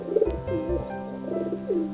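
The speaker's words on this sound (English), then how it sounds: "Next bird is pigeon." A pigeon coos softly and nearby in a short series of low, rolling, throaty calls separated by brief pauses, with faint background noise beneath.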